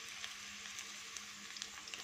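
Pointed gourd (parwal) pieces frying in hot oil in a pan, a steady soft sizzle with faint crackles throughout, no talking.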